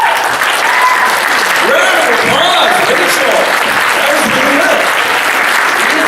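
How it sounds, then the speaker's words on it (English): Loud, full audience applause for a voice acting performance at an anime convention panel, continuous heavy clapping throughout with voices and a few cheers rising over it. "Round of applause, Rachel"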